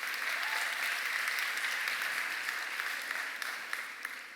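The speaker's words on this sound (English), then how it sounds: "everyone give him a round of applause" An audience claps in steady, dense applause at a talk on the future of social impact, a sustained wash of hand claps that holds evenly for most of the stretch, then thins and fades slightly toward the end.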